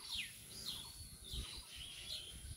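Weaver birds chirp around their hanging nest, a string of faint, thin, far-off calls repeating every half second or so over a quiet background.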